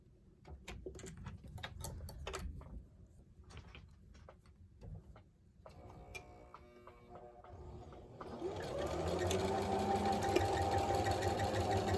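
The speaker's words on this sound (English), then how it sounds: "so you can sew the raw edges of the gator mask" A sewing machine stitches the raw edges of a fabric mermaid gaiter face mask, starting with scattered clicks and then settling into a loud, steady whirring hum that runs to the end.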